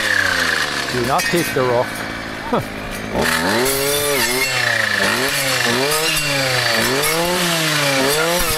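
A chainsaw cuts down birch trees outdoors, its loud engine revving and bogging under load, pitch rising and falling steadily, with a person speaking over it briefly.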